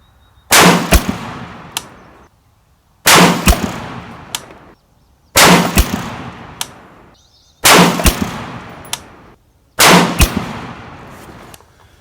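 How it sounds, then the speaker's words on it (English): RRA 20-inch varmint rifle firing five sharp, loud shots at a steady pace about two seconds apart, each crack followed by a short echoing decay outdoors at a 100-yard range, with no talking. "We are shooting these all the way through, no breaks between the 5-shot groups, straight in a row."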